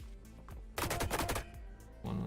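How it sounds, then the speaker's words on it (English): Beam cannon weapon firing in a video game: a loud burst of rapid repeating blasts lasting under a second, followed by a second loud onset at the end. "So let's just double check. Beam cannon."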